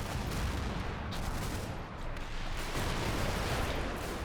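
Rumbling volleys of 4.2 inch mortar fire in the Combat Mission: Battle for Normandy war game, dense overlapping blasts and crackle with no clear gaps, sustained and fairly distant.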